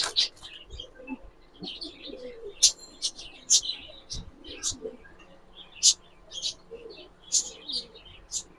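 Giribaz pigeons in cages cooing and calling among many birds, a busy stream of short, repeated calls close by, with a voice in the background now and then.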